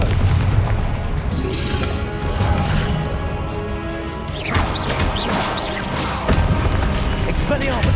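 Confringo explosive curse blasts in Hogwarts Legacy, a steady run of booming, crashing impacts in a dense, loud combat din that never lets up.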